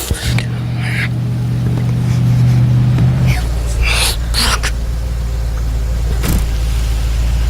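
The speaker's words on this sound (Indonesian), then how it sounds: "mereka mendengar suara mobil milik para kanibal yang" A car's engine hums low and steady near the listener, with its tone shifting midway as it comes closer, and faint breaths and short noises over it.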